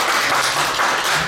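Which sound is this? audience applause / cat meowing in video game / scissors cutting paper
audience applause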